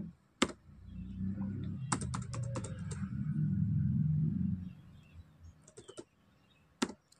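A computer keyboard is typed on while entering a rank formula in Excel, with short bursts of quick key clicks and a few sharper isolated taps over a low background rumble.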